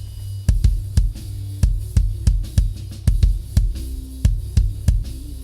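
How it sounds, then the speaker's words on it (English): Deep, booming kick drum hits recorded with a sub kick microphone land in a steady groove, punchy and close with a heavy low-end thump, about a dozen strikes. "Now, I'm going to put in the sub kick with it."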